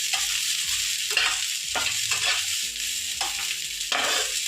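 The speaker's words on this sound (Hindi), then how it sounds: "एकरा हम कनी फ्राई कऽ दै छी।" Pizza ingredients fry and sizzle in a pan on the stove, a close crackling hiss broken by repeated scraping stirs with no voices.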